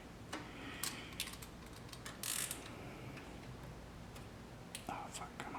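A hose clamp is tightened on a Subaru WRX/STI water pump housing, scattered close clicks and ratcheting metallic ticks over a low background, with whispered talk mixed in.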